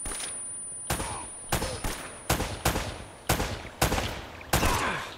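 Gunfire in the video game Uncharted: Drake's Fortune, with about eight loud separate shots at irregular intervals over a constant background rumble.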